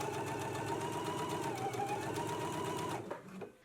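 A home sewing machine runs a steady, loud reinforced stitch over sewing-pattern dots, a continuous whirring hum that stops abruptly near the end.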